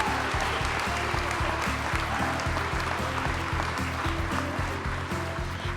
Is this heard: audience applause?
yes